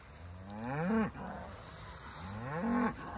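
Cattle moving from a cover crop field to pasture give two long, loud rising moos, one about a second in and another near the end, close by, with no talking.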